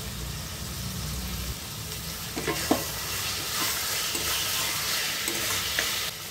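Mutton sizzling in hot oil with onion and garlic paste, a steady loud hiss with occasional scraping of a spatula stirring the pan close up.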